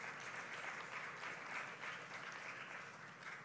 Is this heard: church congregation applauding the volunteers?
yes